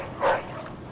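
A single short dog bark or yelp in the Mafia II video game, brief and moderately loud over a faint steady background, with no talk.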